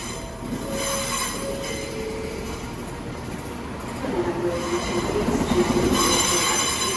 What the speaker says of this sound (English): And here is the Cambridge train.